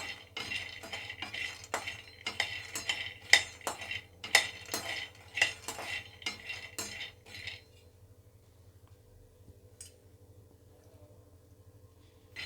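A utensil stirs roasting almonds in a pan, giving a run of quick metallic scrapes and clinks that stop partway through, leaving a low steady hum.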